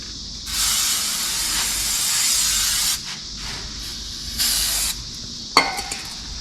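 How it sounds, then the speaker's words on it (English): Brake cleaner sprayed from an aerosol can during wheel bearing and seal work on a 1992 Dodge: several loud, steady hissing bursts of a few seconds each with short gaps, ending in a brief sharp burst. "Brake cleaner."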